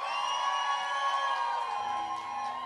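A live concert audience cheering and whooping for a duo's next song, with a steady, loud wash of crowd voices that holds for the whole stretch.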